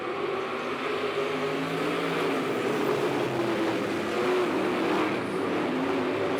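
A field of race cars accelerates together after a green-flag start, producing a loud, steady engine roar that rises slightly in pitch over several seconds, with no voices.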